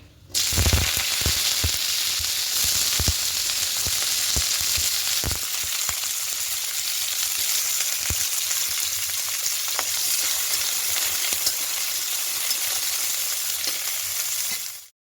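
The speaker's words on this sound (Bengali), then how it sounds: "এবার প্রথমে এখানে কপিগুলোকে হালকা একটু ভেজে নেব।" Cauliflower florets lightly frying in a pan for a vegetable moong dal, a loud continuous close sizzle with a burst of crackling pops near the start that thins to an even hiss; no voices.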